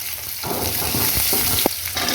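Chopped onion hisses and sizzles in hot oil with urad dal and dried red chillies, a steady loud close-up frying crackle with a few stirring scrapes and clicks and no voice.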